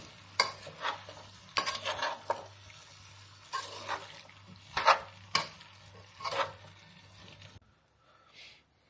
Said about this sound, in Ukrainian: Ретельно перемішати.